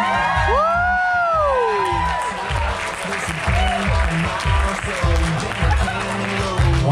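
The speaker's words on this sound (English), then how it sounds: "Let's keep a nice round of applause going for your parents of the groom." Wedding guests applauding and cheering for the groom's parents, a dense, sustained clapping with whoops, loud and close, with a sliding tone over the start and music thumping underneath.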